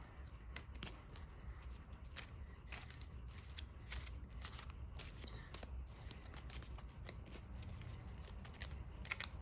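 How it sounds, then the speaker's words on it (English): Rapid crisp riffling of Digimon trading cards being shuffled, a steady stream of soft fluttering clicks repeated throughout, fairly quiet and close. "Get a quick shuffle going."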